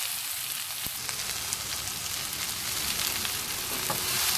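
Sliced okra (bhendi) fries in a hot pan with chilli powder and salt, giving a dense, steady sizzle up close, with a few faint scrapes and clinks as the pieces are stirred.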